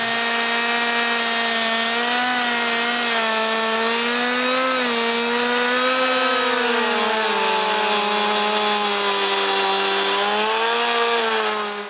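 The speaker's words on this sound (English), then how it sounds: "Finally, I can start the chainsaw and start cutting." A chainsaw runs continuously at close range cutting apple wood into boards, its engine droning steadily with slight rises and dips in pitch as it cuts, loud throughout.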